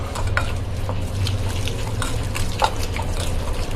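Chicken being mixed by hand with oil and an Indian herb marinade for tehri rice and green chicken, giving soft wet squelching and scattered clicks of contact against a bowl over a steady low background hum.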